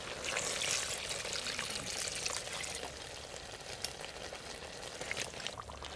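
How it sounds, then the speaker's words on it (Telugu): A glass of water is poured into simmering mutton head and bone curry, giving a steady close splashing pour over the bubbling, sizzling pot, with one sharp clink near the end. "ఒక గిలాసు నీళ్ళు పోసుకుంటాను."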